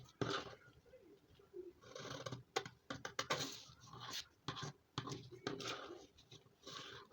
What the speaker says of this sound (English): I'm going to start cutting like this.